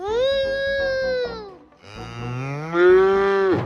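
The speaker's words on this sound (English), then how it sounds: "You've never heard a cleaner moo in your life." A cow gives two long, clear moos close by, the second rising and louder than the first.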